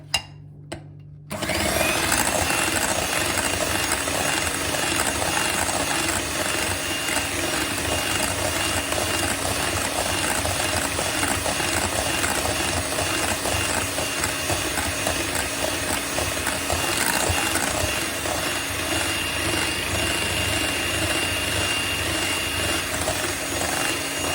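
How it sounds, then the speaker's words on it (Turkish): An electric mixer whisks cake batter after a brief quiet start, giving off a loud, steady motor whir that runs without a break for the rest of the clip, with no talking. "Tekrardan çırpacağım şimdi güzelce."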